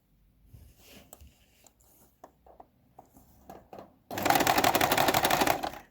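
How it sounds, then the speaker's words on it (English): A sewing machine runs in a loud continuous burst, stitching a quarter inch in around the edges, armholes and neck of a reversible quilted vest, after a few seconds of quiet handling clicks and rustles. "I'm now sewing around the edge, all the edges, except for the part where the collar will be attached to itself."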